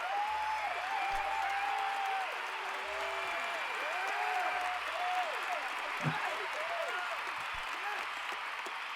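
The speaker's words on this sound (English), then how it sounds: "do some applause now because he's done reading" Audience at a writers' open mic claps after a reading, a fairly faint, steady patter of applause with cheerful voices chattering over it.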